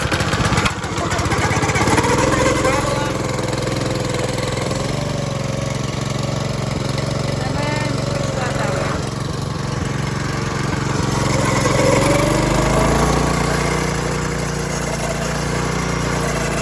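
A small engine on a wheel line mover runs steadily at idle, a continuous mid-pitched drone with a slight rise and fall in speed and no talking over it.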